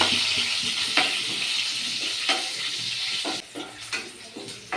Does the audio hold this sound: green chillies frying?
yes